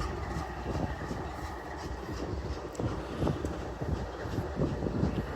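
A long freight train rolls along railroad tracks nearby, a steady low rumble with scattered clicks and clanks from the cars, continuous and fairly loud with no talking.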